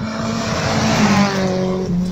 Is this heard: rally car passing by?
yes